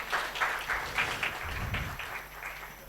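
Scattered applause from an audience at a conference panel on pan-African AI collaboration, fairly faint, with irregular bursts of clapping and a low rumble of movement underneath.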